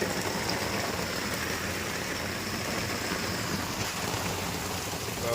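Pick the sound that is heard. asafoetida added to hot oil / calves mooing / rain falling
rain falling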